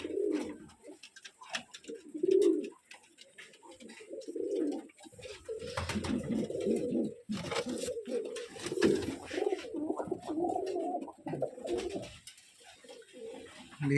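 Pigeons coo repeatedly in a Rajshahi loft stocked with gerebaj fancy pigeons, including feather-footed birds, the low throaty calls overlapping in uneven bursts with rustling and brief clatter nearby.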